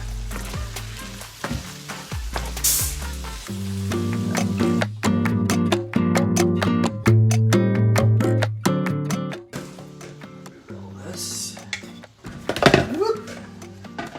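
Minced garlic and angel hair pasta fry in a hot pan, a loud steady sizzle with utensil scrapes and clacks as the food is stirred, and occasional talk over it.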